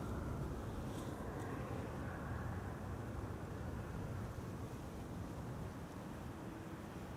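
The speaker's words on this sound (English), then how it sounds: "this is KLM flight 924 arriving from Edinburgh in Scotland." A KLM Boeing 737 arriving from Edinburgh at Amsterdam Schiphol Airport on a crosswindy day gives a steady, broad roar. It holds at an even loudness for the whole stretch, with no voices.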